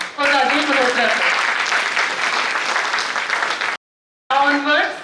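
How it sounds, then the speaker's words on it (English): Seminar audience applauds a speaker at a national seminar hall, steady clapping under a voice talking throughout, broken by a brief dropout of silence before both resume. "A huge round of applause for Rajesh Malhotra sir."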